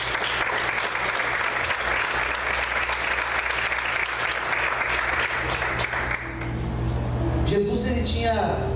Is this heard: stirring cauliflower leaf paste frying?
no